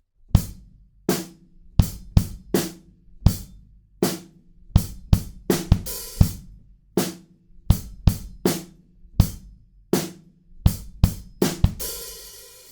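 A close drum kit plays a chopped-up version of a beat, punchy kick and snare hits in broken syncopated groups, a crash cymbal ringing out near the end.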